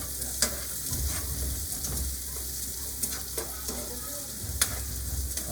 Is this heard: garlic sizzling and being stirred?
yes